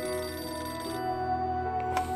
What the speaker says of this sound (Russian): Нет, я сначала на телефон отвечу.